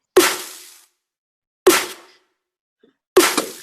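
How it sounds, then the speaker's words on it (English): Three punchy layered snare drum sample hits, evenly spaced with gaps of silence, each a sharp crack with a short bright, noisy tail. "So I've bounced out the snare here"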